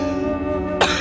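A single sharp cough bursts out near the end, close and loud, following a steady tonal hum.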